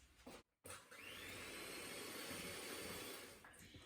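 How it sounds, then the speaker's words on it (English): An electric mixer whisks two cups of double cream toward stiff peaks, a steady close whirring drone with a brief stop near the start before running continuously. "So first we whisk this until it forms stiff peaks."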